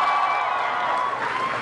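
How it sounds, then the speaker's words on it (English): A crowd at a Michelle Obama campaign rally applauds Paula, giving a dense, steady wash of clapping held evenly throughout the short stretch. "Let's give her a round of applause"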